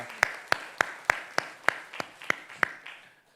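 A church congregation claps together in a steady, evenly spaced rhythm of about nine sharp claps, then the sound fades into quiet.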